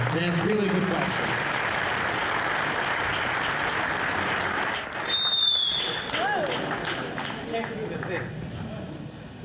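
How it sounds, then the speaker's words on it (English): A room claps in a round of applause at a community meeting, a steady wash of clapping that lasts several seconds, with voices and a few high squeaks mixed in. "we have a round of applause for folks who came here tonight and asked really good questions"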